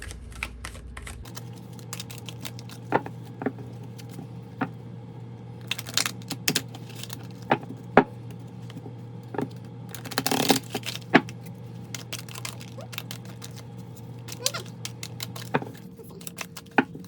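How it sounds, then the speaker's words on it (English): Tarot cards drawn one by one from a deck, giving soft scattered flicks and taps against a steady low hum, with a denser cluster of card sounds partway through and no one speaking. "I'm gonna draw 6 cards and we'll see here"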